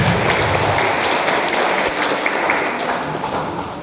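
A large audience at an Anies Baswedan supporters' political rally in Klaten claps together in a sustained wash of applause that gradually softens toward the end.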